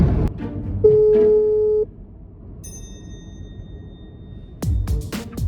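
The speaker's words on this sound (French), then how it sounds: "on va appeler des gens avec le numéro de Nabil" A telephone call tone rings out as someone places a call, one steady electronic beep about a second long, followed by quieter high tones and a burst of noise near the end.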